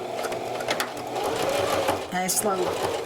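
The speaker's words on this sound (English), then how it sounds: "And I sew right along the outer edge. Of my mask." A sewing machine stitches along the outer edge of a fabric face mask with a five-layer filter, running steadily throughout at close range, with a brief pause and restart near the end under faint speech.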